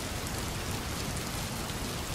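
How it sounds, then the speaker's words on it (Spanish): Steady rain falls in a soft, even hiss of dense drops, continuous and fairly quiet throughout, with no voices or other sounds. "Llueve a cántaros."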